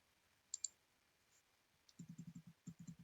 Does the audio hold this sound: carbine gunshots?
no